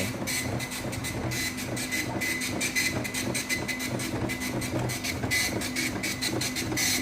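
A Fujitsu DL3850+ dot matrix printer chatters and buzzes in rapid, rattling bursts while printing five-part copies, running continuously at moderate volume with no voices.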